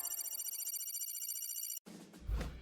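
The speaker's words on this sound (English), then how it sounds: "Detective Brightbrain was sitting in his office when his phone rang" A telephone ringing, a steady repeating electronic ring, faint, lasting nearly two seconds before an abrupt cut to a different, noisier sound.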